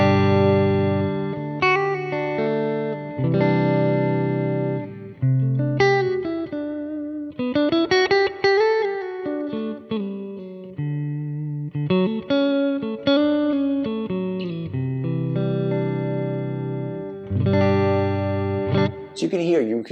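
A PRS SE NF3 electric guitar with a clean tone on the in-between pickup position plays strummed chords and melodic runs with reverb, loud and steady, while a voice talks over it.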